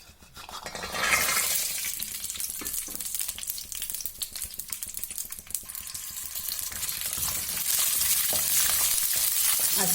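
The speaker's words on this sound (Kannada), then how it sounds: "ಈಗ ಎಣ್ಣೆ ಸ್ವಲ್ಪ, ಉಸ್ತಿಕಾಯಿನ ಫ್ರೈ ಮಾಡ್ಕೋಬೇಕು." Ustikayi frying in a little oil makes a steady, fairly loud sizzle with light crackles and stirring scrapes, the hiss building over the ten seconds, with no talking.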